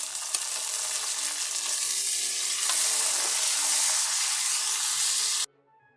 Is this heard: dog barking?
no